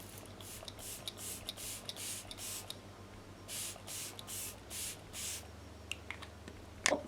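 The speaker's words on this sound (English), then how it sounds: "Okay, so I'm just going to spray this all over my face." Morphe Luminous setting spray misted over a face in a quick series of short, soft hissing pumps, a pause, then more bursts, close and quiet with no talking.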